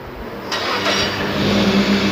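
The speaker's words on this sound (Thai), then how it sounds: "ให้ทีมงานสตาร์ทเครื่องยนต์ครับ" A car engine cranks and catches, then settles into a steady mid-pitched running rumble, fairly close, during a car air-conditioning check where the compressor runs but the AC gives no cooling.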